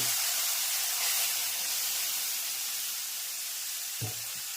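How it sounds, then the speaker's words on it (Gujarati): A steady, fairly loud sizzling hiss of a spice tempering poured into kadhi fills the whole stretch, with a brief low thump near the end and no voices. "સરસ મજાની કઢી વઘાર થઈ ગયો છે"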